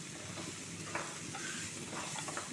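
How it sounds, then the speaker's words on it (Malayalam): Fried chicken being stirred into a filling mixture for chattipathiri, a soft, steady scrape and sizzle with a few brief clicks, close and fairly quiet, with no talking. "ഈ ചിക്കന് പൊരിച്ച് വെച്ച് മാറ്റി വെച്ചത് ഇതിലേക്ക് ഇട്ട് കൊടുക്കുക. എന്നിട്ട് നല്ല ഒന്ന് ഇളക്കി മിക്സാക്കി കൊടുക്കുക."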